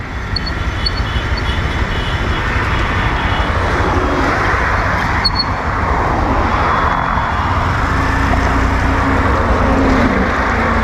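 A passenger airplane coming in to land produces a loud, continuous roar that stays close and dominant for the whole stretch, swelling slightly, with no talking over it.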